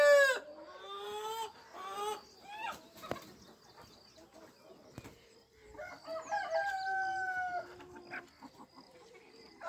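Chickens and a rooster at a desi poultry farm: a rooster crows loudly near the start and again later, with clucking and scattered bird calls between the crows.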